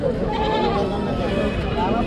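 Goats bleat repeatedly amid a dense, noisy crowd at a crowded livestock market in Tripura, with people talking loudly all around.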